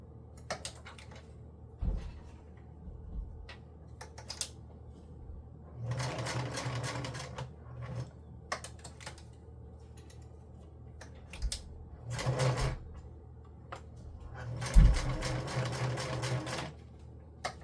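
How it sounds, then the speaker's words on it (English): A sewing machine stitches in several short bursts separated by pauses, with soft clicks and handling noises in between. "I want you to not be scared of your sewing machine"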